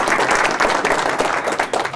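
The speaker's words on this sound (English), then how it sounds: "give a big round of applause to Mr. Don" An audience applauds a speaker at a DaVinci Institute talk on the future of Westminster, a dense, steady wash of many hands clapping throughout at close range.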